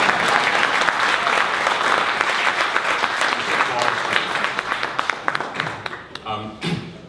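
Synthesized applause played on a LinnStrument expressive controller: a dense, steady wash of crowd clapping that thins and breaks into a few scattered claps near the end.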